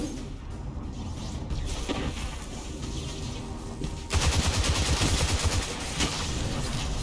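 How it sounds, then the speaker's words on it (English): Gunfire in the video game Destiny 2, quiet scattered shots at first, then a sudden louder burst of rapid automatic fire that rattles on for a couple of seconds before easing off. "Yeah, they're shooting."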